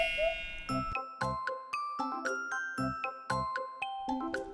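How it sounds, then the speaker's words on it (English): A doorbell chimes repeatedly in bright, ringing tones, a clear melodic sequence of dings with lingering resonance, alone and fairly close. "Doorbell."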